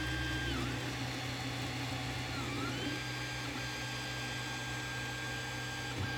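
An Ender 3 3D printer runs a print while dragging filament, giving a steady mechanical whir and hum with faint shifting motor tones, continuous and fairly quiet, with no voices.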